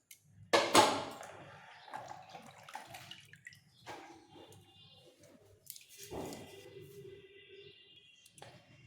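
Thin potato slices for homemade chips are lifted out of a bowl of washing water, with splashing, sloshing and dripping at close range, strongest in an early burst and again near the end.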